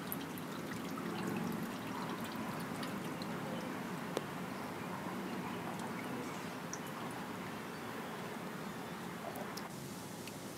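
Fabric dye dripping and trickling off dip-dyed shorts makes a soft, steady liquid patter and run-off, faint and continuous with one small splash partway through.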